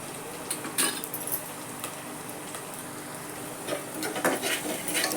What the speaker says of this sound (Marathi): ते छान असं परतून घेतलं चांगलं